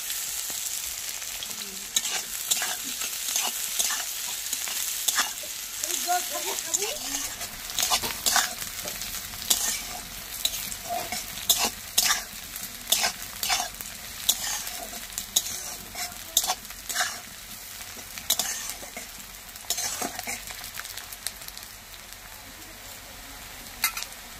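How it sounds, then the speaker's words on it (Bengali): Sliced onions frying in a pan for a neem-flower chochchori, a continuous crackling sizzle broken by repeated spatula stirs and scrapes, close up and without any voices. "পেঁয়াজ ভাজা হয়ে গেলে আমি আলুটা দিয়ে দেব"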